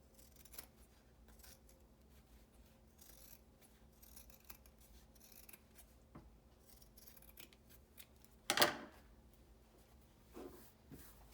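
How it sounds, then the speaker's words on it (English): Scissors trimming fabric of a sewn face mask, soft quiet rustling and handling with one crisp snip partway through and a fainter cut afterward. "you can trim it to just clean it up a little and reduce some of the bulk"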